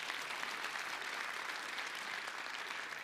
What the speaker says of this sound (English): Please, a round of applause to our state representatives.